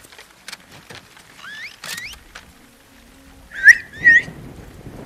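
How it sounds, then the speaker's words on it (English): Enemies in The Last of Us Part 2 whistle signals to each other, several short rising whistles from mid-distance, the last two louder and closer, with light footsteps and movement around them. "Gotta get the whistling in there."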